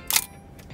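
A Nikomat EL film camera fitted with a 135mm lens fires its shutter once at a fixed 1/90 second, a single crisp mechanical click near the start, followed by a faint second tick and quiet room tone.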